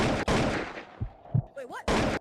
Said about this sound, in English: Oh, bro, who's shooting me?